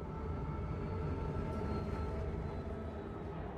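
A train rumbles into a station in the video game Saints Row, a steady low, heavy mechanical drone with faint metallic hiss above, continuous and fairly close with no talk.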